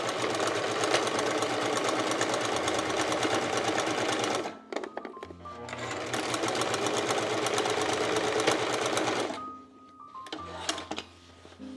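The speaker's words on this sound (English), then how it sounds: "I'm gonna sew along that 2-inch mark" A sewing machine stitches along a 2-inch mark while making a makeup bag, its fast, even motor whir running loud and close in two long bursts, with a short pause and clicks of the machine between them.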